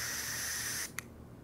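DPS Black Label fogger pepper spray discharging in a loud, close, steady hiss that cuts off abruptly after under a second, followed by a brief faint click.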